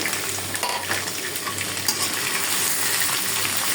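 Peeled prawns fry in a pan, making a steady, close sizzle with light crackles and faint stirring, with no voices.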